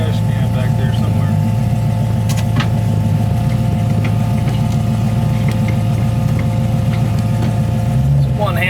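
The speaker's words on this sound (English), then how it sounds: "So this is what it's like to drive a 40 Ford." A 1940 Ford car driven on the road gives a loud, steady engine drone with a low rumble that holds throughout, close and continuous, with a few faint clicks and a short rise near the end.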